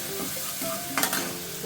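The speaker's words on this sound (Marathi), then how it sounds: "त्यात कलरसाठी आपण काश्मीरी लाल मिरची टाकत आहोत। तिला पण तेलात चांगलं परतून घ्यायचं।" Kashmiri red chilli stir-fried in oil for pav bhaji makes a close, busy sizzle with a spatula scraping and stirring through it, including a brief louder scrape near the middle.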